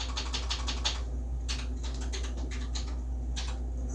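Keys strike on an old, fully manual typewriter in a run of quick, close, crisp clacks with short pauses, set over a steady low electrical hum.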